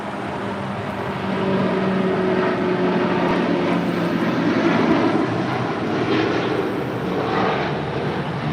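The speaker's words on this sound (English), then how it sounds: "This is LL Flight 6 Heavy taking off to Tel Aviv on the 787-9" El Al Boeing 787-9 Dreamliner jet taking off from LAX for Tel Aviv, a loud steady engine roar that swells slightly mid-way and holds, heard from nearby without talk.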